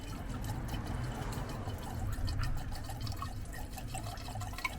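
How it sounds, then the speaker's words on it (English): Coolant pours into the radiator of a Fiat Punto in a continuous, close gurgling stream with scattered drips, fairly quiet and steady throughout. "this is how I put coolant into the radiator"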